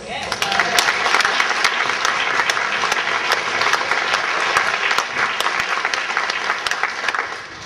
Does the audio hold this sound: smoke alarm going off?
no